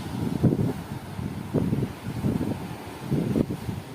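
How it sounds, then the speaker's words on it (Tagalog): Steady low seaside wind buffeting and rumbling near waves, blowing sand, gusting in pulses every second or so, with no voices. "Mahangin dito."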